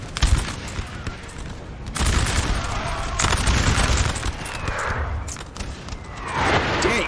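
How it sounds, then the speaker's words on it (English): Howitzer artillery and musket volleys fire in a Napoleon Total War battle, with dense overlapping booms and crackling fusillades rolling on continuously at mid distance. No one speaks. "Dang, that's some nice howitzers."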